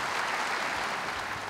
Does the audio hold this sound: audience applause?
yes